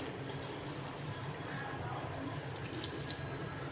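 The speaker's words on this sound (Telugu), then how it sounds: "కొన్ని వాటర్ వేస్తాను." Water runs steadily, splashing as it is poured into mango juice, a soft continuous trickle heard close up with faint drips.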